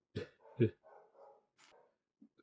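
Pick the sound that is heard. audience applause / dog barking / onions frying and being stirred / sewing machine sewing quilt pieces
dog barking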